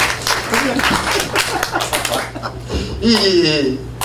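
An audience at a mission strategy forum lecture breaks into clapping, a burst of hand claps heard alongside a speaking voice, with chuckles near the end.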